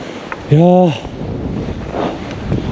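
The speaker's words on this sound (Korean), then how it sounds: "위에는 바람 많이 분다" Strong wind buffets a snowy winter mountain summit, Bangjangsan's Eokse peak in Jeolla in deep cold, as a steady broad rushing roar. A short vocal exclamation rises near the start.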